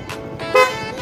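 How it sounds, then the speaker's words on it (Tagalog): A stock motorcycle horn triggered through the passing light switch gives a short, loud toot near the middle of the second, over a steady background hum. "Pinindot natin yung hollow switch, passing light with horn."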